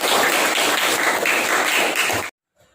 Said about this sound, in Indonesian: tepuk tangan untuk Mbak Devis